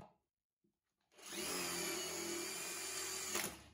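An impact driver drilling metal with a 5 mm Milwaukee bit whirs up after a brief quiet, running at a steady high-pitched drone for a couple of seconds before stopping abruptly.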